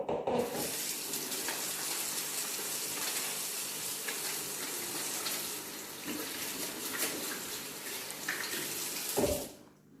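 A tap runs steadily into a sink while hands are washed before baking Kinder cupcakes, a close, continuous splash that stops abruptly near the end.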